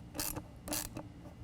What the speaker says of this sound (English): tighten that one down. Use an 8mm nut driver on this.